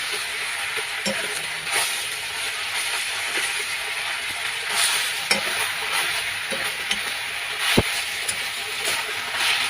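Leafy greens cooked with coconut and potatoes being stirred in a hot pan, a steady sizzle of frying with intermittent scraping and clinking of the spatula against the pan, close by.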